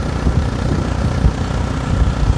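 An automatic motor scooter engine runs at a steady low, even hum, held at a slow speed, continuous and close with no talk over it.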